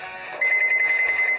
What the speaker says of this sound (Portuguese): É possível calibrar o equipamento e escolher a distância que o bip vai começar a tocar.